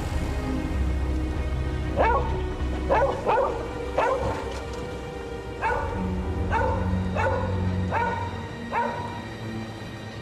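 A dog in an apartment search barks and whimpers in a series of sharp yelps, roughly one every second, close and fairly loud over a low rumbling room background.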